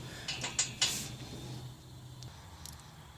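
New exhaust header bolts being tightened on a car engine: a few quick ratcheting clicks and metallic clinks near the start, then a quieter mechanical tail with a faint hum underneath.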